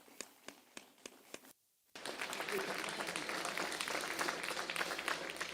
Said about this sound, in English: Let's stand and give our faculty a hand.